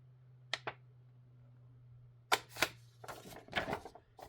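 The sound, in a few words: small scissors cutting paper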